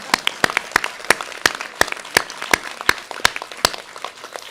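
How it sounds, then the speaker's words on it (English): A small audience at an Asia Society event in Hong Kong claps, sharp separate handclaps in a loose irregular rhythm, close and fairly loud, with no talking over it. "Now you can clap."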